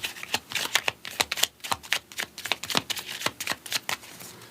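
Oracle cards being shuffled during a tarot reading: a quick run of crisp riffling flutters and soft slaps, close and fairly loud, with no voices.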